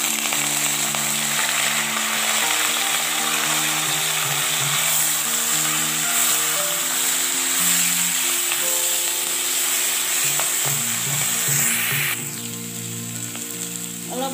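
Lai saag greens and potatoes frying in hot oil, a steady loud sizzle with stirring that runs continuously and drops slightly in level near the end, with no talking.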